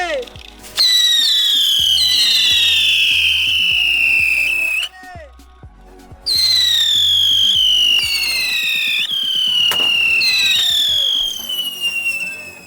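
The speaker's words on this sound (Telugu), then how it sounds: "ఇప్పుడు ఒకేసారి 3 కాలుస్తున్నాం, చూద్దాం ఎన్ని విజిల్ వస్తాయి ఎట్లుంటుంది సౌండ్ అని చెప్పేసి" Three whistling ground-spinner firecrackers burn together on the ground, loud rising-and-falling shrill whistles layered over each other, breaking off near the middle and then resuming with fresh whistles, with sharp pops and people talking in the background.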